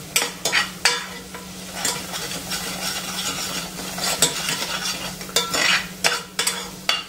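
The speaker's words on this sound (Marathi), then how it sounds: "मीठ आपण व्यवस्थित असं मिक्स करून घेऊया" A spoon scrapes and stirs a mixture for pea patties in a pan, mixing in salt, with repeated sharp scraping strokes over a soft sizzle.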